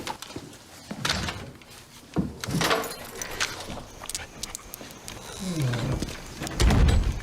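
Lions roar from a film scene, heavy rumbling growls rising and falling over several seconds with other low movie sounds around them, loud and fairly close.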